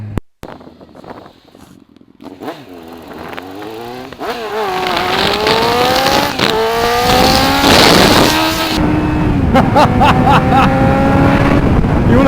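A Kawasaki ZX9R motorcycle engine on the move, rising through loud revving sweeps as it accelerates through the gears, close and dominant, with wind noise after a quieter start.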